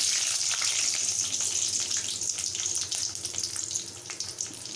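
Green chillies sizzle and crackle in hot oil in a pan while cooking rava upma, a steady hiss with sharp popping spatters throughout, fairly loud and close with no talk.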